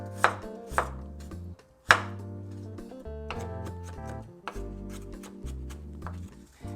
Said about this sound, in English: With the garlic, I'm just going to mince it really finely.